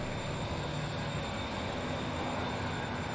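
An HST 125 train in the video game Transport Fever 2 runs as a steady, dense rumble and hiss of rolling stock, unbroken and fairly loud throughout.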